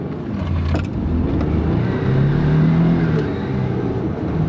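An old four-wheel-drive pickup truck accelerates down a small drag strip, its engine building in a steady, loud, rising drone with a whine climbing in pitch midway, heard close up without talk.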